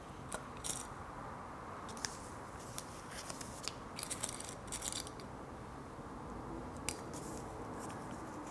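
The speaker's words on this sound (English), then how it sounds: "So what we're going to do now is take the scissors, and we are going to just snip where the notches are." Scissors snip through fabric at the notches of a knife-pleat sewing project, a handful of short, faint crisp cuts scattered over a quiet background with no talking.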